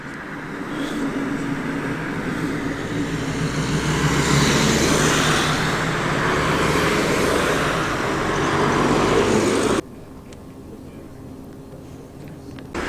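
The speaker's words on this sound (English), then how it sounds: "The TVR Chimera rumbles its way in, a mighty Rover V8 there under that fiberglass bonnet" A TVR Chimera with a Rover V8 under its fiberglass bonnet rumbles into a classic car meet, a loud, broad engine roar building and holding for about ten seconds before cutting off abruptly to quieter outdoor ambience.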